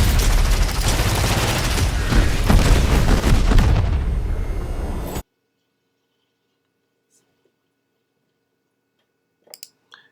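Explosions from Valkyrie's explosive ability rumble in an Apex Legends game trailer, a loud, dense barrage of booms and crackling blasts lasting about five seconds. It cuts abruptly to near silence, broken only by a couple of faint ticks.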